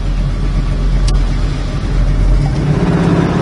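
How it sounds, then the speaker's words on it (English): A 1968 Chevrolet Camaro on the road, its engine a loud, steady low rumble close by that dips and rises briefly as the car shifts gears, with no talk over it. "Nice shifting car, nice and firm, nice clean shifts."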